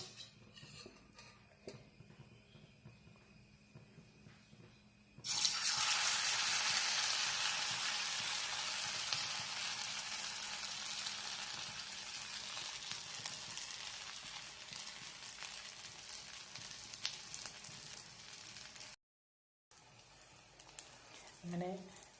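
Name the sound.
egg bhaji frying in oil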